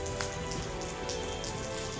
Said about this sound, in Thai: อันนี้ฝนกำลังตกเยอะครับ